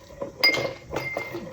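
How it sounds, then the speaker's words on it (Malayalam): Ice cubes drop into a glass of Maker's Mark whiskey, giving three or four bright, close clinks in quick succession. "സോ കൂടെ ഐസാണ് ഇടുന്നത്."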